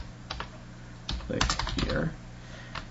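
Computer keyboard keys clatter in short bursts of quick typing, close and fairly soft, with a denser run in the middle, as HTML button code is entered.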